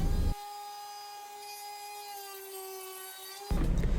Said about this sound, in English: I used another piece of poplar, and I cut a square in it so the light would shine through. And for this, I just used the jigsaw